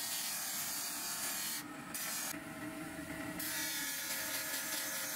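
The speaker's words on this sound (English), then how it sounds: "a grinding stone with a lower hardness is used again for material removal" Steady grinding stone of lower hardness working a steel scimitar blade forged from recycled railway track, a continuous close abrasive rasp with two brief bursts of brighter hiss partway through.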